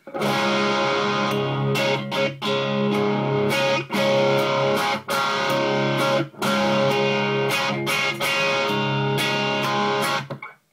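A distorted electric guitar with Bare Knuckle Aftermath pickups and a Free-Way toggle plays continuously with brief gaps, its tone shifting abruptly between bright and darker timbres as pickups are switched.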